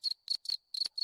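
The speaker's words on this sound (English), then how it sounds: "If not, there's a cricket." A cricket chirping sound effect from a Discord soundboard: four quick, bright, shrill trilling bursts with a thin steady tone between them, close and clear, with no talking.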